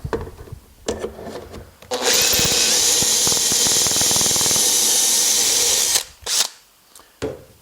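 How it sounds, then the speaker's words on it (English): A power drill bores a hole in a wooden outfeed table for a SawStop saw, a loud continuous whine of about four seconds with grinding bursts, bracketed by short handling knocks and a brief second burst near the end. "I'm going to drill that first hole here"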